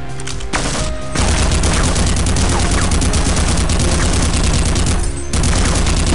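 Sustained automatic gunfire from soldiers in the Half-Quake video game, dense and loud throughout, with brief pauses near the start and end.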